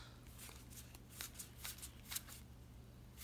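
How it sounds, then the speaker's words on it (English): Board game expansion cards being shuffled into a base deck, a run of quick crisp riffling bursts close up over a steady low hum, with no talking. "And now these can be shuffled into the base game."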